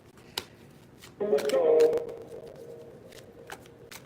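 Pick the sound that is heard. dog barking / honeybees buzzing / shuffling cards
shuffling cards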